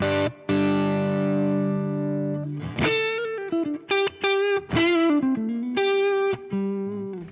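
Electric guitar through an overdriven amp with master at half and boosted overdrive channel: a long sustained chord rings out, then a run of singing, bending single notes with brief gaps, loud and alone.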